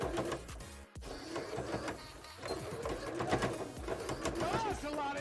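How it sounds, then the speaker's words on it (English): A sewing machine stitches a bra cup with a busy mechanical chatter, half buried under a talking voice and other dense background sound throughout. "I think it'd just be a little safer to machine stitch"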